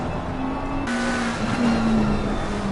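A racing car engine in a racing video game at Brands Hatch holds a steady high drone, then eases off the throttle with the pitch dipping and wavering, loud and close with no talk.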